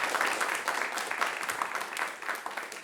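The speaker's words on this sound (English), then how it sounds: "A round of applause, Eskil Steenberg." Dense audience applause fills a conference hall as a talk by Eskil Steenberg ends, a steady wash of many hands clapping at fairly even loudness throughout, with no voices rising above it.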